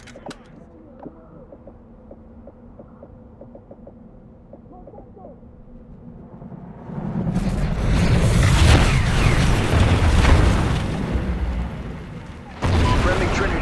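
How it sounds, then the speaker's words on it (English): Trinity rocket strikes in Call of Duty: Ghosts land as a heavy, sustained rumbling blast that swells and lingers for several seconds before a second burst, following quiet ticking and faint game chatter. "Friendly Trinity rocket inbound."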